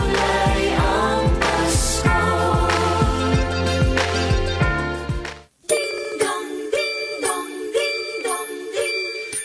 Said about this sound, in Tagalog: Kampana ng simbahan ay nanggigising na at waring nagsasabi.